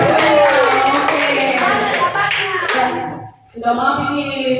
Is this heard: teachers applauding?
yes